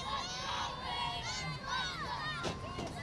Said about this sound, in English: cheering and celebrating and being really excited to be on TV.